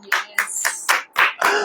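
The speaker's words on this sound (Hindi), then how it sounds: "ताली बजाओ।" Hands clapping at a sermon gathering: about six sharp, close claps at a steady, even pace, with no talking.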